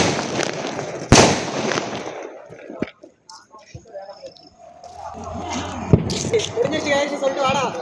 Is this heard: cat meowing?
no